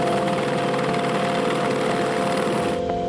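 Helicopter rotors and engine drone steadily at close range, loud and unbroken, as the aircraft ferries metal guardrails up to the roof of a coastal fort on Île Madame.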